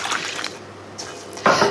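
Cold water splashes into a pot of dense root vegetables, coming in short gushing bursts with a louder pour at the end, close by in a kitchen.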